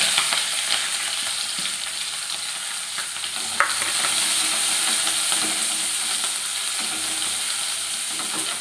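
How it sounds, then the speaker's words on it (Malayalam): Sliced onion, green chili and curry leaves frying in hot oil after mustard seeds have popped, a loud, continuous sizzle with stirring scrapes and a sharp clink partway through, no voices. "അപ്പോൾ അതാ ഉള്ളി നല്ലോണം മൂത്തൊന്ന് തുടങ്ങുന്നുണ്ട്"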